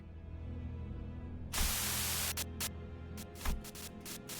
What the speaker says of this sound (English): Sudden buzz of white noise breaks through the truck's silence.